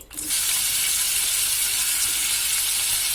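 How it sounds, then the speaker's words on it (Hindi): Potatoes dropped into hot oil in a kadai set off a loud, steady sizzle that starts almost at once and keeps hissing evenly throughout, close up with no voices. "जब ऑयल गर्म हो जाएगा तब इसमें हम अपने आलू डालेंगे"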